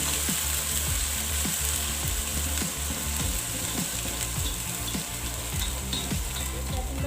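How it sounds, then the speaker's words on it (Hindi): Ginger garlic paste, about three tablespoons, frying in a pan over medium-low heat, giving a steady dense sizzle with repeated scraping stirs throughout. "अब हम इस स्टेज पे अदरक और लहसुन का पेस्ट शामिल करेंगे।"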